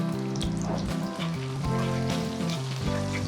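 Curry leaves and sliced green chillies sizzle in hot oil for a Kerala-style ripe mango curry, a steady crackling fry with rain-like pops, close and moderately loud, alongside a sustained tonal backing.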